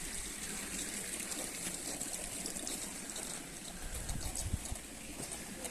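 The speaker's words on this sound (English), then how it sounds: "And we'll walk up to the fountain here." Water pouring steadily in a town fountain with a crown on top, in a granite-built village in central Portugal, a continuous broad splashing rush that stays loud and even throughout, with no voices.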